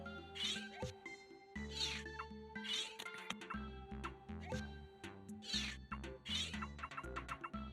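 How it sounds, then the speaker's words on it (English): A cat meows in a few short, high calls over steady electronic game music and chiming tones from Pokemon Snap. "What is that cat doing?"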